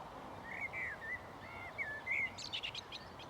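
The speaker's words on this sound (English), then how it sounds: "Blackbirds singing merrily over there." Blackbirds sing several clear phrases over steady outdoor background noise in a grassy field, short melodic whistles followed by quicker bright notes, moderately distant.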